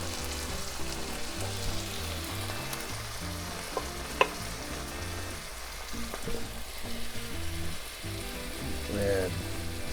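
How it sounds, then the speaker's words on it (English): Onion sautés in a pan, a steady close sizzle and crackle of frying that runs the whole time, with light stirring scrapes and a faint tick partway through. "Saute that till the onion's nice and translucent and soft."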